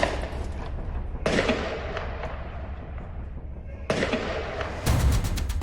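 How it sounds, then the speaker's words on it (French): Gunshots ring out in a neighbourhood alley in amateur footage near Nice: a few sharp broadband bangs and cracks at intervals over steady street rumble, the last burst louder and closer. "comme en témoignent ces images amateurs, des coups de feu ont encore retenti"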